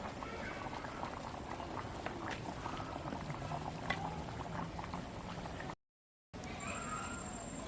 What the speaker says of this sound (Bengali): এবার লুচি ভেজে নিচ্ছি